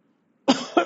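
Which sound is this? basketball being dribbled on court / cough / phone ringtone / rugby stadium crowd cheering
cough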